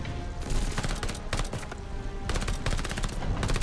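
Rapid bursts of gunfire in the video game Call of Duty: Vanguard, dense automatic volleys in several clustered salvos with short gaps, loud and close.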